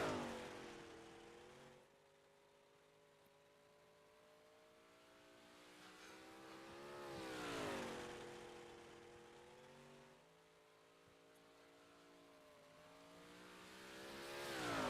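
A 358 modified race car laps Lanier Speedway, its engine droning steadily at a distance and swelling louder as it passes around the 7- and 14-second marks, with no voices over it.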